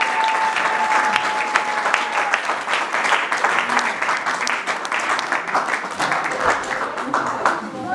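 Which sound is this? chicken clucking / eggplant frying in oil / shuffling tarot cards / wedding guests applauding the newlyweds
wedding guests applauding the newlyweds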